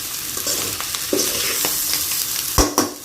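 Egg fried rice being stir-fried in a pan with soy sauce and salt, steady close sizzling with repeated scraping and tossing strokes of a utensil, a few louder clanks near the end, no talking.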